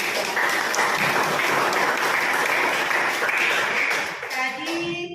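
Loud, continuous clapping from a group of teachers at an Indonesian academic coaching session, a thick even roar of hands that fades near the end as a voice begins speaking.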